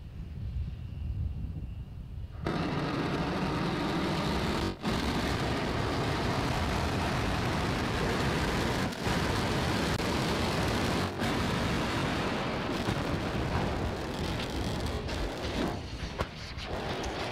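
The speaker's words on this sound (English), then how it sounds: "a bit of an explosion at the end there" A sudden loud roaring blast as the Starship SN8 rocket explodes on landing, rumbling on as broadband noise with a few sharp cracks cutting through, then gradually thinning out.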